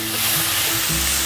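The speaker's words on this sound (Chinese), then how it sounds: "油已经热了，放入金针菇" Enoki mushrooms drop into hot oil in a frying pan and sizzle loudly and steadily at close range, a dense continuous hiss with no talking.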